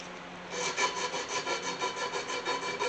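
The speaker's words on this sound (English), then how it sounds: "I'll take some emery cloth and I'm just going to go and clean out the end of the yoke here where the cap goes in." Emery cloth rubbed inside the yoke of a U-joint on a 1981 Chevy C10 shortbed pickup, a rhythmic back-and-forth scraping of about a dozen quick strokes, close and fairly loud.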